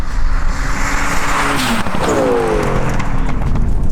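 A turbocharged Toyota GT86 and a turbocharged Toyota Corolla AE86 drag race, their engines roaring loud and close throughout with rising and shifting revs and a tone sweeping upward partway through.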